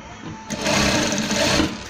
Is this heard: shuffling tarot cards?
no